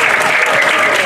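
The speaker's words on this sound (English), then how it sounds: "a big round of applause from them all" Crowd applause at a lighthouse relighting ceremony, a brief burst of steady, fairly loud clapping.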